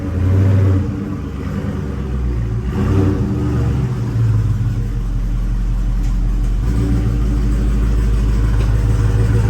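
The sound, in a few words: car exhaust rumbling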